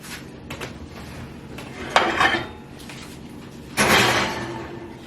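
A baking pan of breakfast sliders slides back into a hot oven, with metallic clatter and two scraping, rattling bursts of pan on rack and oven door, close and fairly loud over a quiet kitchen background.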